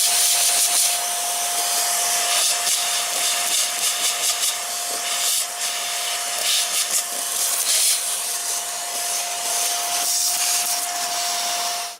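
A vacuum cleaner fitted with a JML Dust Daddy straw attachment cleans a car, giving a steady airy whine with a fixed tone and fluttering rubbing and sucking noises.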